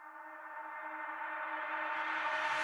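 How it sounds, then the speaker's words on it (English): A riser in an FL Studio trap beat swells steadily over a few seconds, its bright hiss climbing and thickening as it builds, fairly quiet and heard alone. "Last thing I did is I just added this riser right here."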